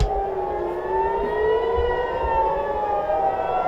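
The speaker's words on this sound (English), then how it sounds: "you can hear that siren" A loud civil defense siren wails steadily, its rising and falling tone sustained throughout with no voices.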